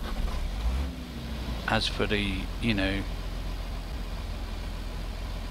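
A tractor engine idles steadily in Farming Simulator 2013 with a forest mod, a low constant rumble running the whole time beneath a voice.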